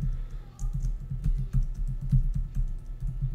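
Typing on a computer keyboard, a quick, irregular run of soft key clicks and thumps close to the microphone against a quiet low hum.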